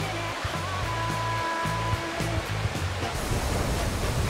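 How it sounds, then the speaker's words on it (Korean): A cool mountain stream flowing in front of a house, a continuous rushing wash of water under low intermittent rumbling and tones, close and fairly loud. "집 앞에 시원하게 흐르는 계곡 물소리"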